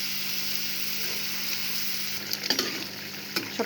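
Koi fish pieces slipped into a bubbling masala curry in a pan, a continuous close sizzle and simmer with a few soft splashes and utensil knocks toward the end, no talk.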